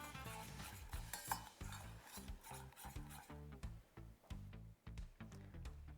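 Rhythmic scraping and stirring clatter sounds close up from a pan as oil and butter heat together for a Turkish tirit dish, with no voices.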